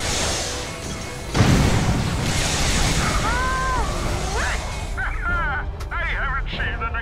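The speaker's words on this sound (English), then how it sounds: "I haven't seen an explosion that pretty since the final action." A sudden booming explosion in Ratchet & Clank: Tools of Destruction bursts out and rolls into a loud, rumbling aftermath, with game sound effects and voices continuing over it.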